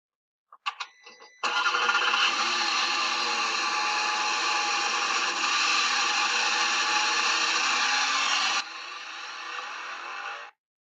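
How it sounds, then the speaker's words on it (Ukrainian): Car sounds played for a children's classroom listening guessing game, a few short clicks followed by a loud, steady engine whir that holds for about seven seconds, drops slightly in level, then cuts off abruptly. "Це були звуки автомобіля"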